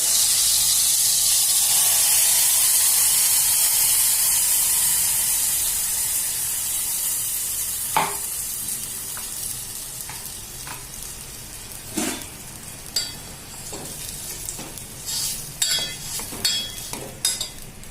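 Cumin seeds and ground masala paste sizzle in hot oil in a pan for a peanut amti, a loud steady hiss that fades, then sharp crackles and spatters as stirring continues.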